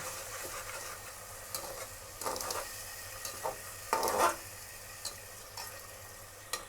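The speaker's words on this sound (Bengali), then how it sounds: "এবার ভালো করে মিশিয়ে নেব।" Tomato and green chili paste being stirred into a Bengali-style mutton curry, with a faint steady sizzle under a few soft scraping strokes of a spoon against the pan.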